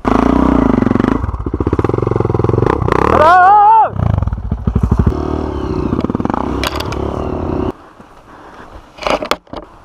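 A motorcycle on a flooded dirt trail near Maracajaú, Rio Grande do Norte, revs loudly and steadily while towing another motorcycle. The engine rises sharply once, then drones on before cutting out. Riders talk over the noise.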